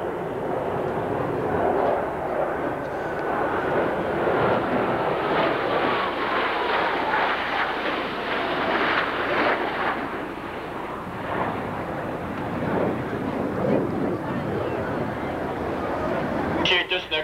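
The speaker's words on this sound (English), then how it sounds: "look closely for both aircraft in a carrier landing configuration as they approach" Blue Angels jets in carrier landing configuration roar past at an air show, a broad, sustained jet rumble filling the whole stretch at steady loudness with no talking over it.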